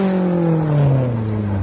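Rally car engine revving hard under acceleration at a gravel stage rally in Vinchos, Ayacucho, a loud, close, steady roar with the pitch sliding down as the car pulls away.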